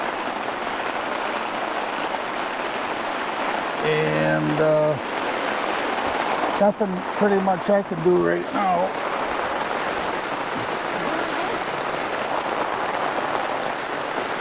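A full downpour of heavy rain hisses continuously and loudly outdoors while someone talks briefly over it in two short bursts.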